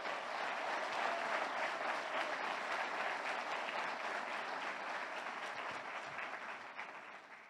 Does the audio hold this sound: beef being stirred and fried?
no